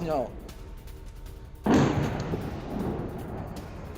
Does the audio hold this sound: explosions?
yes